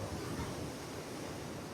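Water rushes over an overflowing dam spillway at the Orós açude, a faint, steady broadband roar like distant surf with some wind noise on the microphone, continuous and without talk.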